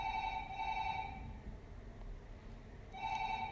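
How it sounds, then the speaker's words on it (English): A telephone rings in the background of a room, two bursts of a trilling electronic bell separated by a pause, faint and slightly distant with no speech. "Sorry about the phone ringing in the background."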